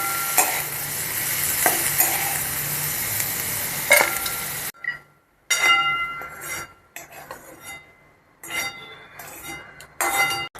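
Ingredients for dosa podi dry-roast in a pan while being stirred, kitchen prep for a Rameshwaram Cafe style ghee roast podi masala dosa. A dense, steady scraping sizzle runs for several seconds, then breaks into intermittent scrapes and metallic clinks separated by short pauses.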